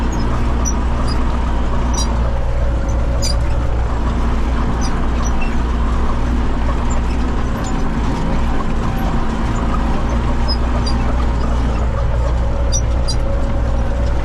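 A tractor pulling a disc harrow through a sunflower field drones steadily and loudly throughout, with a constant low rumble and occasional clanking rattles of the harrow over rough ground.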